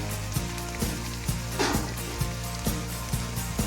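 Kashmiri green haak (saag) frying in a pan, with a steady hiss of oil and regular soft knocks as a wooden spatula stirs the leaves at an even pace.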